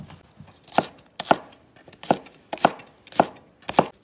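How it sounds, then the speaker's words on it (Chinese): Knife chopping scallions and ginger on a cutting board, six sharp evenly spaced thuds in a steady rhythm, close and crisp with quiet gaps between strokes. "切点葱姜"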